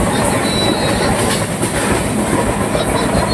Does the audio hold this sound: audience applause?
no